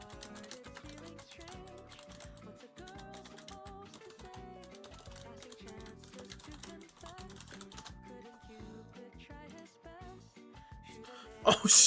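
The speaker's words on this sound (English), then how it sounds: "I'm typing this message out." Quick, uneven clacking of keys as someone types out a message on a computer keyboard, with bursts and short pauses, close up and fairly quiet, ending in a louder rustle.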